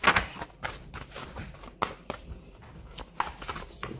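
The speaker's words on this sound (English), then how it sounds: "I'm sorry if you can hear my dog playing with his bone in the background." A dog plays with a bone: irregular clicks, taps and scraping knocks scattered over a few seconds, like something hard being gnawed and pushed around on a floor, close by.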